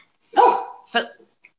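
A puppy gives two sharp, close barks, the first longer and louder, the second shorter, followed by a tiny faint yelp in an otherwise quiet room.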